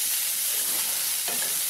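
Grated coconut is sautéed and stirred in a pan for horsegram chutney, giving a soft, continuous sizzle with light scraping, close up and with no voices.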